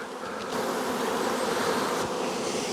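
Honey bees drone steadily at a strong colony's hive while supers are added to nucs, a dense continuous buzz that swells slightly louder after the first half second and holds close and even, with no voices.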